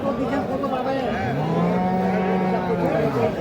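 A cow lows at a busy cattle market, a long drawn-out moo that bends downward in pitch over about two seconds, loud and close above a constant murmur of crowd noise.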